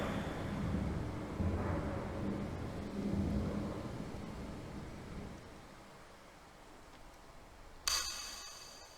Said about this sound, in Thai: อ้าวฟ้าผ่า